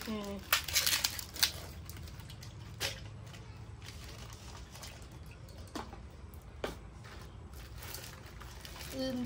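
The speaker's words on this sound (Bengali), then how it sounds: "এগুলো সব ঢেলে নিবো গামলাতে এখন" Sweets are tipped into a large bowl, making crinkly, rattling bursts and scattered knocks. Most of the noise falls in the first seconds, with more scattered clatter after that.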